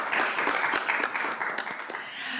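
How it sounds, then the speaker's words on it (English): An audience at a panel talk on influence operations claps after a speaker finishes, a steady, moderately loud round of many hands with sharp individual claps standing out, tapering slightly toward the end. "You can hear the clapping,"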